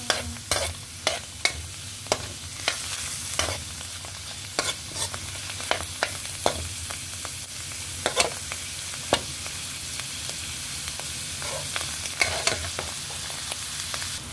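French beans sautéing in butter in a pan, stirred with regular scraping strokes over a continuous close sizzle, no voices.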